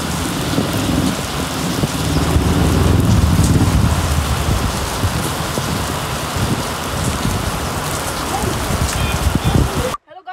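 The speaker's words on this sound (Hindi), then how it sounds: "बारिश अभी भी चालू है।" Heavy rain falls outdoors, a dense steady roar of drops on surfaces that continues loud and unbroken before cutting off abruptly at the end.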